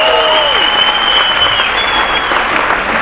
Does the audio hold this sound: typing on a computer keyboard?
no